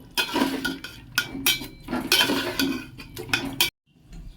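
A Bengali panta dish with yogurt and tomato is stirred in a pot, with a spoon scraping and clinking against the metal in quick close strokes before a sudden stop near the end.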